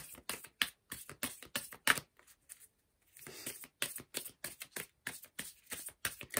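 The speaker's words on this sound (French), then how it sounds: "Alors je mélange les cartes." Oracle cards being shuffled in a series of quick, crisp riffling bursts, with a short quiet pause partway through before the shuffling resumes close and clear, with no talk.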